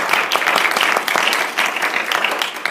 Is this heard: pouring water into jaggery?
no